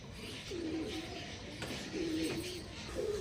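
Soft, low pigeon coos come three times, spaced a second or so apart, over a steady background hiss.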